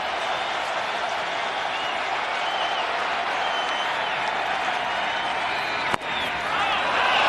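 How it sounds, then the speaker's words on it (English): Loud, dense roar of a baseball stadium crowd at a Phillies vs Marlins playoff game, cheering and applauding continuously with a brief sharp knock near the end. "And this is a relentless crowd."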